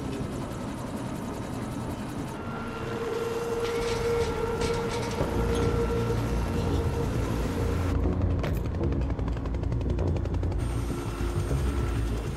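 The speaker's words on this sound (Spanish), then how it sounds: "Sí, es un helicóptero." Helicopter in the Quantum Break video game, a steady mechanical whirring drone with rumbling low end and clanking game effects on top.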